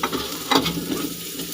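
Garlic and onion sautéing in a pan for pork Bicol Express, a brief close sizzle with a quick stirring scrape in the middle.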